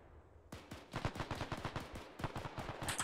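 Rapid bursts of gunfire from a World War II shooter, Task Force Athena, set in the Battle of Tarawa, starting abruptly after a half-second lull and continuing as dense, loud, overlapping shots with no speech.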